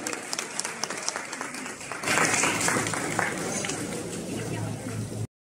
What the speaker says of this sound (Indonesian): Boleh kita berikan aplaus paling meriah